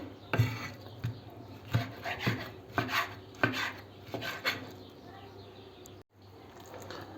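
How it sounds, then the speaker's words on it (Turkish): A knife chops liver on a cutting board in a series of irregular chops, fairly close, with soft scraping between them and a brief pause near the end. "bütün ciğeri doğradık"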